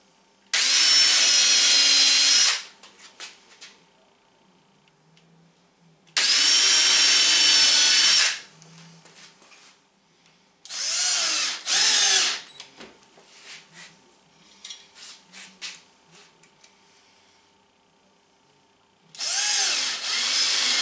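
A power drill drives 3/4 inch truss head screws while side doors are fitted to a teardrop trailer. Loud, close whirring bursts come in a start-stop rhythm: two long runs, then shorter pulses, with quiet gaps between and no talk.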